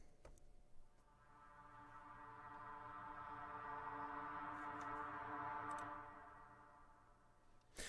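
An Eventide Ultra Reverb effect: a sustained tone swells slowly and hangs in a long, washy reverberant tail, with a brief sharper onset near the start and end.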